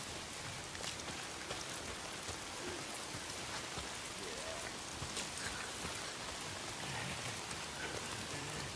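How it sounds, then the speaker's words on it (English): Rain falls steadily in the post-apocalyptic video game Days Gone, a dense, fairly quiet patter of drops hitting surfaces with scattered louder splashes and no speech. "If it's not the freaks, it's the goddamn rain."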